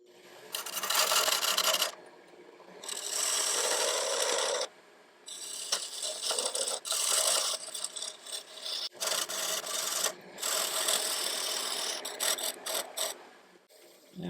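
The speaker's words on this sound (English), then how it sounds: "use a parting tool to knock it off" Bursts of scraping, rasping cutting noise from a wood lathe using a parting tool, several long passes separated by brief pauses, loud and close, with no talking.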